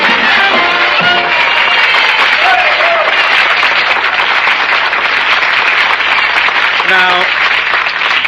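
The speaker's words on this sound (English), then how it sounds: "Some real live people applauded." A studio audience at an old radio show applauds loudly and continuously, a dense wash of clapping filling the whole stretch, with a voice briefly heard over it near the start and again near the end.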